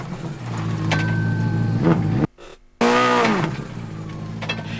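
A vintage Subaru Impreza rally car spins during a 2003 Donegal International Rally stage, its engine revving loud and close with rising and falling pitch, then briefly cutting out before roaring back in.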